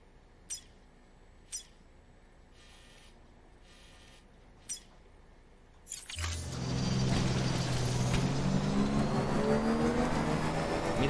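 A motorbike in Death Stranding starts after a few sharp clicks and then rides with a smooth, steady electric whine that holds for several seconds, loud and close; no one talks.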